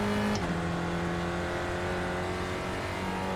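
A Spec Racer Ford race car in iRacing at Lime Rock Park drones steadily under load, its engine note dropping sharply once early on before holding a constant, close tone.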